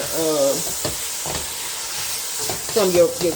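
Vegetables being stirred and cooked in beef rib drippings left from seasoned meat, with a steady broad frying hiss throughout, brief scraping stir strokes, and a voice speaking at the start and end.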